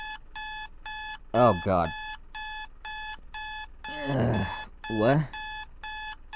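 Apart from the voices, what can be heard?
alarm clock ringing in Doki Doki Literature Club mod video game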